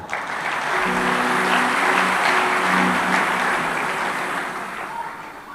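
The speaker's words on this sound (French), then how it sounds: "Vraiment, acclamons cette chorale" A church audience applauds a choir after a worship song, a steady wash of clapping that swells and holds for several seconds, then slowly fades, with a faint sustained tone underneath.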